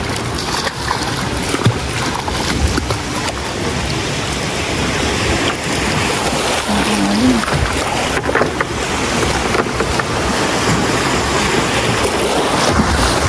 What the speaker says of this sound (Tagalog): Sabing alon.